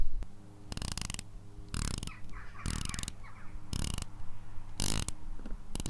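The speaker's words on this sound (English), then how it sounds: "120 clicks unidirectional bezel. And let me just show you the sound of that." Zelos Swordfish watch with a titanium case and a 120-click unidirectional bezel being turned, sharp, loud, close ratcheting clicks in five or six quick bursts separated by short pauses, with no talking.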